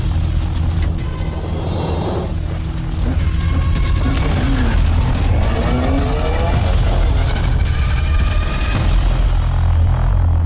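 A race car speeding along a straight course during a race, a loud dense roar of engine and road noise filling the whole stretch, with shifting whines and a few other sounds mixed in.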